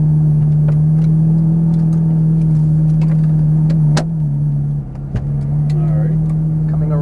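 Ferrari 430 Scuderia pulling gently away in first gear, a loud, steady, low engine drone heard from close by with a brief dip midway.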